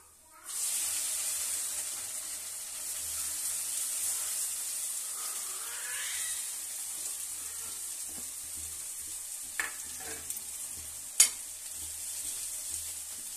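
Boiled mustard greens go into hot masala for sarson ka saag and sizzle with a steady bright hiss, with scraping stir sounds and a few sharp utensil clinks.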